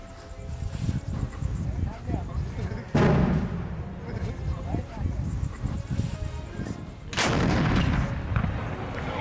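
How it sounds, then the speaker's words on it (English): 122 millimeter artillery shell fired from a front-line position less than a kilometer from enemy forces: two heavy booming blasts a few seconds apart, loud and close, with people talking and outdoor rustling between them. "So they just blasted off a 122 millimeter shell."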